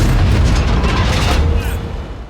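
Tank cannon fire in World of Tanks, a loud, booming blast with a heavy low rumble that fills the moment and slowly tails off.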